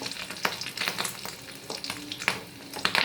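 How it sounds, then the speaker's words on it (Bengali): Fish roe fries in a hot pan for a fish egg curry, sizzling steadily with frequent sharp pops and crackles that burst irregularly close to the listener, with no voices. "দেখতে পাচ্ছ বন্ধুরা এরকম ফাটছে ফটফট ফটফট করে। মাছের ডিম তো ফাটবেই"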